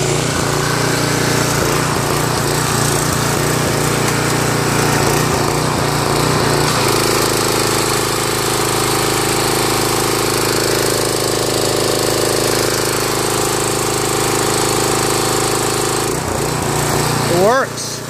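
A gas-engine power washer runs nearby with a loud, steady, rattling drone that shifts pitch partway through and stays constant for the full eighteen seconds.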